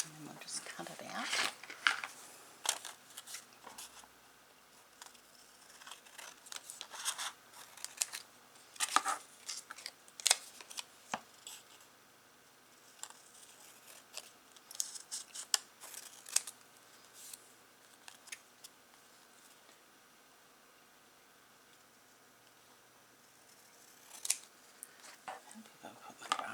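Scissors snip through paper while cutting out a piece for a Christmas gluebook craft, with short irregular bursts of crisp cuts and handling noises spread across the stretch, some louder clusters near the start and end.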